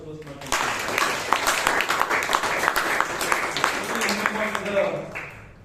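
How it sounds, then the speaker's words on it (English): Applause from a meeting audience at a Toastmasters club gathering in Bangalore, a dense steady wash of clapping that starts after half a second and holds for about five seconds, with voices mixed in. "A round of applause for Toastmasters."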